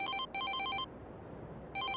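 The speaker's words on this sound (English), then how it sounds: "Got a phone call." A phone rings in the farming game Farming Simulator 22, two loud electronic ring bursts separated by a short pause, then silence before a third burst begins.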